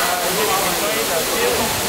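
A waterfall roars close by, a dense, continuous rush of falling water that fills the clip evenly, with faint tonal sounds like distant voices mixed into the wash.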